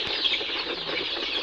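Native Bangladeshi backyard chickens cluck softly while eating feed at dawn, a steady close murmur of hen sounds with occasional brief calls and no talking.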